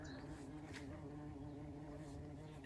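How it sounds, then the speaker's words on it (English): A small bumblebee buzzes inside a garden shed, a steady low drone that holds for a few seconds without talk. "Got a little bumblebee that's got into the shed. If you can hear a buzzing noise, that's what it is."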